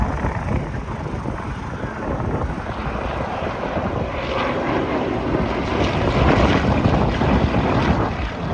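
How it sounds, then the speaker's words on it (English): An aircraft passing low at Headcorn International Airshow, a loud continuous rotor-like engine roar swelling gradually toward the end, with no talk over it. "This demonstrates the qualities of the aircraft very,"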